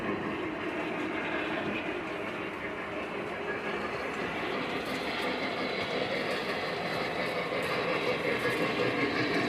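A Lionel Lion Chief model steam engine train runs on a home layout, giving a steady, moderately quiet rolling rumble with light track clatter throughout.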